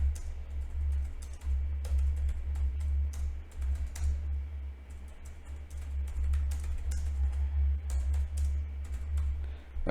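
Computer keyboard typing a short English sentence in a CorelDraw design class, with steady close key taps and irregular clicks over a constant low hum, no speech.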